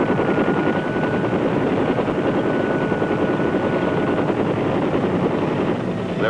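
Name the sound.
military helicopter gunships flying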